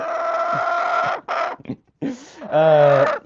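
A chicken in a backyard flock clucks and squawks close by in a few uneven bursts, ending in a longer throaty call.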